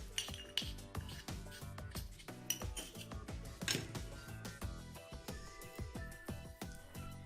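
A spoon clinks and scrapes against a glass or ceramic bowl while neem oil is mixed into a small homemade skin-itch remedy, giving close, rhythmic taps and stirring clatter throughout with no talking.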